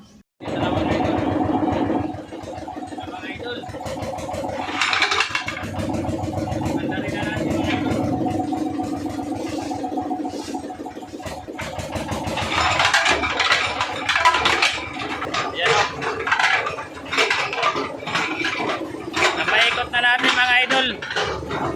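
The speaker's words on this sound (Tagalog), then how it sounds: "Pandarin na natin yung makina." An engine-driven crushing machine grinds clay pots with a little water to recover gold. It starts abruptly into a loud, steady mechanical drone with rattling and clattering, grows rougher later, and people talk over it at times.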